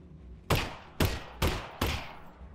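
Four loud gunshots from the video game GoldenEye: Runway, each a sharp blast with a short decaying tail, spaced about half a second apart.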